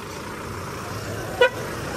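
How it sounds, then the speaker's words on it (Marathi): A tempo truck pulling away on a rainy road during a Ganpati immersion outing, with a low engine rumble and one short horn toot near the end. "चला टेम्पो निघला"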